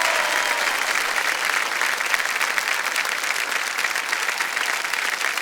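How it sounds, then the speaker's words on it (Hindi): Sustained, dense applause from a television quiz-show studio audience cheering a contestant on KBC, steady and loud throughout with no talking over it. "तालियों के साथ हम चाहते हैं कि जोरदार तालियां बज जाएं इनके लिए।"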